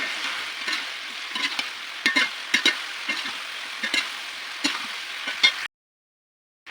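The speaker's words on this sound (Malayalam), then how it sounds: "ഇനി നമ്മളുടെ ഫ്ലവർ ഫ്രൈ ചെയ്തത് എടുത്തുണ്ട് നന്നായി മിക്സ് ചെയ്യാം." Fried cauliflower being stirred in a pan for chilli gobi, a steady close sizzle broken by irregular scraping clicks of the spoon, ending abruptly in silence.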